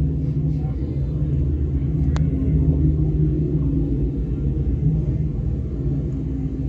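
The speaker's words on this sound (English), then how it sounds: "Now you can hear that low rumbling like it's a car, a nice powered, a V8 powered car" A V8-powered Dodge Charger gives off a steady, deep low rumble that holds evenly throughout, with one brief sharp tick partway through.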